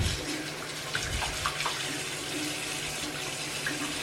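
Steady running tap water splashing into a sink, continuous and fairly loud with small clinks and splashes mixed in.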